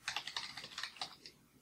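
A password being typed on a computer keyboard, a quick close run of about a dozen light key clicks in an uneven rhythm, ending with a couple of spaced taps.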